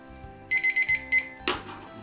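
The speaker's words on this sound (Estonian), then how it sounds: "mul on selline hea köögikell, taimer" A kitchen timer rings in a series of rapid bright electronic beeps for about a second, pauses briefly, then gives one more beep, followed by a louder clattering sound; faint low background hum throughout.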